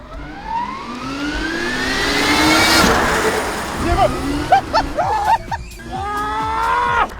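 Interior of a small motor-swapped Kewet electric car while driving, with a rising whine from the electric motor that climbs in pitch and fills the cabin loudly, plus rattles and clunks toward the end as people talk.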